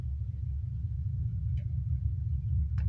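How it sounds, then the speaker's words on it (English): Loud truck passing outside, a steady low engine rumble dominating throughout with a couple of faint brief clicks on top, no voices. "as soon as I heard that loud truck"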